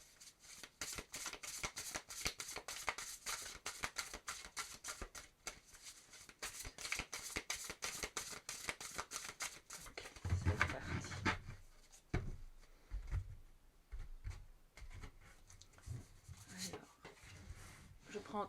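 Tarot cards shuffled in rapid rhythmic riffles, close and crisp, then softer slides and taps as cards are drawn and laid down.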